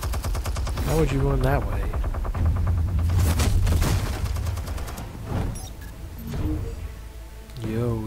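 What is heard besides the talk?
Gatling gun firing in video game Batman: The Telltale Series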